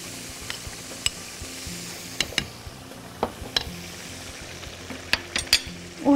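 Flour being stirred in hot oil in a pan for a lasagna sauce base, a soft continuous sizzle broken by irregular scraping clicks and taps of a spoon against the pan.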